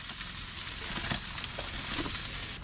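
A big steak sizzles on a Char-Broil grill with a steady, close, dense hiss of frying and a few faint pops, and no talk over it.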